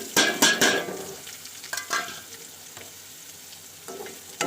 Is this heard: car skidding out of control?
no